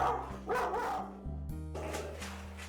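Dogs bark repeatedly in a home kitchen over a steady low hum, the barks loud and close, coming in quick bursts.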